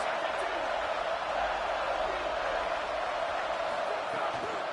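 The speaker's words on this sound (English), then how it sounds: "this crowd is bringing down the house" Steady, dense crowd roar in the CFB 27 college football video game, Oklahoma at Nebraska, on a third down. The noise holds at an even level throughout, with commentary voiced over it.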